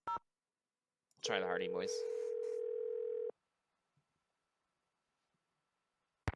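A steady telephone tone sounds in a Nancy Drew game for about two seconds, with a short voice over its start, then silence with faint clicks.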